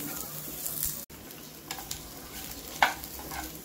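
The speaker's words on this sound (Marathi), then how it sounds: "कांद्यासोबत आलं लसूण सुद्धा टाकलंय" Onion frying with ginger and garlic for veg khima, soft close sizzle with scattered stirring scrapes and a brief sharp spatula knock near the end, no voices.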